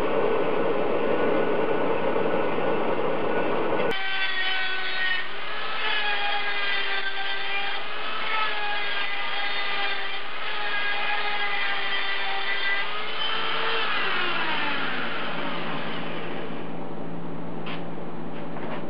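A bandsaw slices through a cast pipe elbow for a turbo manifold on a 1976 Mazda RX-5 Cosmo, a loud steady whine with wavering tones as the blade bites, then winding down near the end.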